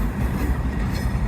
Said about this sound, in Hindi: 4568 आज लीड करेगी 7 अप को लाहौर से रावलपिंडी तक।